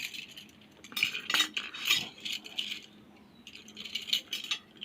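Thin metal wheel spokes clink and rattle as they are gathered and set into a motorcycle front disc-brake wheel hub and rim, a run of close, bright jingling bursts with short pauses between.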